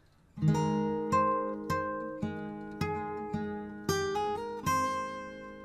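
A bar of a fingerstyle arrangement on guitar: bright plucked notes and chord stabs in a steady, gently paced rhythm, each ringing and decaying, with no voices.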